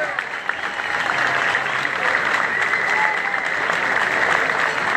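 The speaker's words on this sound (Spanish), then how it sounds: "¿Cómo no me lo vamos a aplaudir?" Spectators at a gaucho parade in San Antonio de Areco break into loud, sustained clapping for a young rider, which swells and stays dense with voices murmuring underneath.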